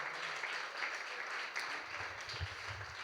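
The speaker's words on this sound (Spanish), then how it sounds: "Dan un aplauso de alabanza al Rey." A congregation applauds in praise during a church service, a steady wash of many hands clapping at moderate distance, with a low voice or murmur rising underneath near the end.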